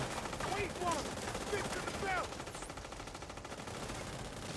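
Gunfire in a video game shooter, heard as a quiet, dense rattle of rapid shots that stays low and muffled under a busy game background.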